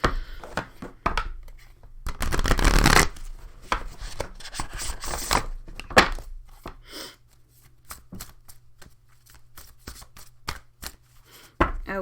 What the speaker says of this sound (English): My hands don't want to shuffle.